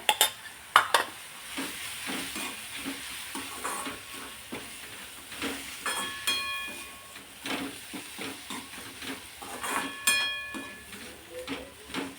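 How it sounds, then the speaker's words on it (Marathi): A spoon scrapes and stirs boiled, crushed sweet corn mixture in a hot pan, with steady soft sizzling and irregular clinks and scrapes throughout, close and alone with no talk. "आता यात उकडून क्रश केलेला मका टाकायचा आहे. मस्त हे मिक्स करून घ्यायचं."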